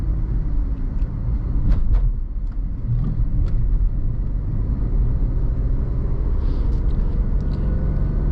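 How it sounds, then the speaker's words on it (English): Steady road noise inside a 2012 Jeep Liberty on the move: a constant low rumble and tire roar fill the cabin, with faint higher rattles and no voices. "It's fairly quiet in here, a fairly normal amount of road noise,"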